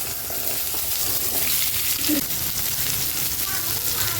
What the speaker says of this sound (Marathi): मी हे दोन कांदे घेतले तर आपल्याला हे छान भाजून घ्यायचं आहे